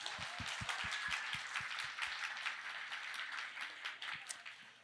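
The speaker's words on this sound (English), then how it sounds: "Big round of applause." Applause from a small audience at a storytelling talk for creators, dense clapping with a few sharp, distinct claps at the start, tapering off toward the end.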